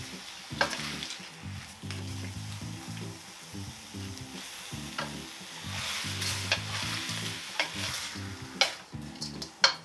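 Jumbo shrimp sear in a pan with a steady close sizzle, broken by repeated stirring and scraping sounds and a few sharp clinks near the end, with no voices.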